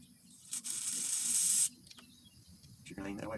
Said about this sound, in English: we're going to spray a little brake parts cleaner in these orifices